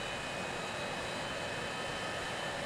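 Airplane flying in the Transport Fever video game, heard as a steady, unbroken drone of aircraft engine noise at an even loudness with no other sounds.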